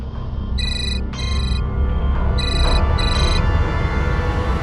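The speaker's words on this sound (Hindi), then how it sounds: "अरे फोन उठाकर बात कर लो ना पहले।" An electronic phone ringtone in a TV crime drama sounds in two pairs of short, bright trills, fairly close over a steady background rumble.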